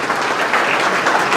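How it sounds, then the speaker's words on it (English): A town hall audience applauds Councilman Crandell at a district budget meeting, a steady, dense wash of clapping that stays loud and even throughout with no voices over it. "Let's have a round of applause for Councilman Crandell as well,"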